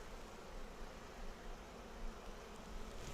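Dense swarm of honey bees droning steadily at close range while a brood frame is pried apart during a hive inspection, a continuous buzzing hum with slight swells.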